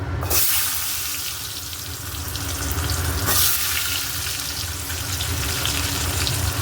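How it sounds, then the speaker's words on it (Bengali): Potatoes frying in oil left over from fish-roe fritters, a loud dense hiss that runs the whole time and swells twice as the pieces are moved or added, with no voices. "এই তেলের মধ্যেই আমি আলুগুলো ভেজে নেবো"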